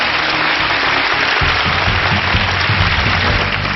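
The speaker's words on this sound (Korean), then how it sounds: "박수 한번 주십시오." A roomful of people clap together at a speech event, sustained and even, with a muffled low rumble underneath throughout.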